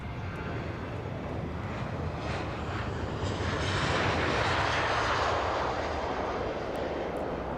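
A Jet2 Boeing 737 airliner on its takeoff roll at Manchester Airport, a loud, continuous jet engine roar that swells steadily and stays broad and rushing throughout, heard from a distance with no talking.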